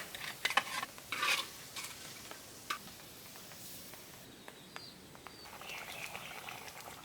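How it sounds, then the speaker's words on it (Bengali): Fish coated in turmeric, chili and cumin powder fries in hot oil, giving a soft, steady sizzle with scattered crackles and pops and occasional stirring scrapes, heard fairly close with no talking. "মাছগুলো একটু ভাইজে নিলাম"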